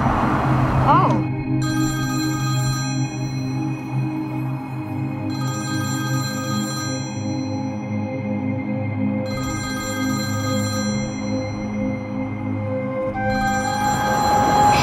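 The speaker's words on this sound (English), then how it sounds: "Is that your phone ringing?" An old-style telephone bell rings in three long bursts separated by pauses, moderately loud over a steady low hum, with people talking around it.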